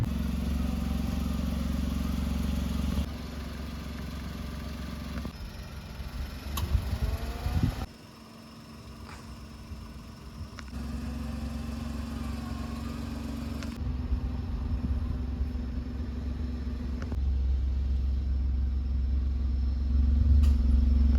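A Perodua Ativa fitted with newly installed air suspension is driven on a test run, giving a steady close engine rumble and road noise that shifts slightly in level as it moves, with no talking.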